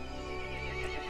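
A horse neighs loudly in the Resident Evil Village video game, a single drawn-out whinny over a steady ambient bed with a faint clop of hooves.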